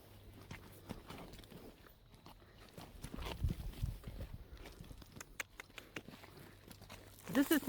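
A horse walks at a campground in Occoneechee State Park, hooves thudding and crunching irregularly on the ground with rustling, under faint intermittent talk.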